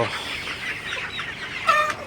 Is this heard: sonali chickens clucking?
yes